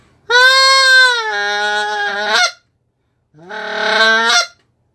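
A handheld goose call is blown in a moan rhythm followed by a honk: two loud, close, drawn-out nasal blasts with a wavering, bending pitch, separated by a short pause.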